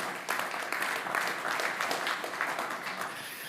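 An audience at a microphone-technology conference claps together, a dense, even wash of hand claps that holds steady at moderate loudness for several seconds with no speech over it.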